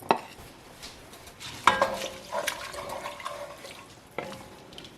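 Broth is poured into a pot, then rice is tipped in for a small batch of homemade jambalaya, giving a few soft splashes and a rushing pour at close range, with faint clatter between.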